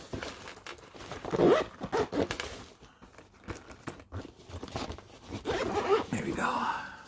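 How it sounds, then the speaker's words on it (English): A zipper drawn along a portable mini projector's travel case in a few quick pulls, close and fairly loud, with a person talking around it. "Oh, I should zip it up."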